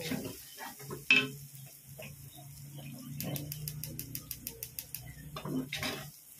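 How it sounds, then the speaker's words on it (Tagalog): Onions cooking in oil in a pan for home spaghetti, with quiet frying and close, rapid spatula stirring and scraping taps, one sharp knock near the start, no talking. "Lutuin lang natin itong sibuyas. Magmamantika na guys."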